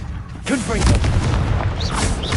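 Confringo blasting spell explosions in the video game Hogwarts Legacy: a loud booming burst and rumbling blast, with a voiced cry and short whooshing tones mixed in.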